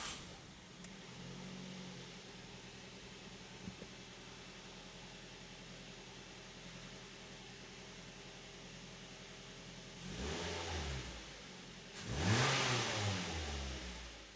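A Ford Focus being started and revved after a P2008 fault-code repair: a steady low hum, then the engine swells in two rising revs toward the end, fairly close.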